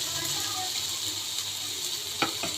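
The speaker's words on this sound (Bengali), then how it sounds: "এখন আমি একটু জল দিয়ে দেবো তার মধ্যে" Water is poured into a pan of small-fish curry as it cooks, giving a steady hiss of pouring and sizzling close by, with a couple of light clinks near the end.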